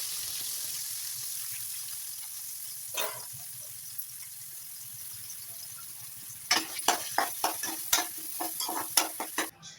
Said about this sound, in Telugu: ఆనియన్స్ చక్కగా వేగిపోయినాయి